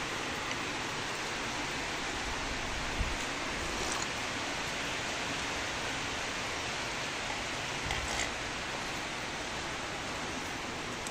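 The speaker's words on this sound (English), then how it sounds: "The rain is up again." Rain falls steadily at an African home during the rainy season, a dense, even hiss that runs unbroken throughout with no speech.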